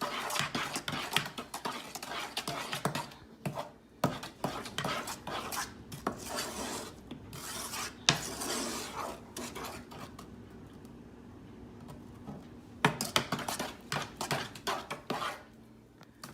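A spoon clinks and scrapes against a pot as a melting fudge mixture with butter is stirred, in quiet, irregular bursts of metallic knocks with short pauses between them.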